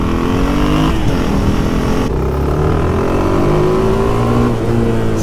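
A single-cylinder supermoto motorcycle engine revving loudly and close, its throbbing note rising and falling through several throttle blips with no talk over it.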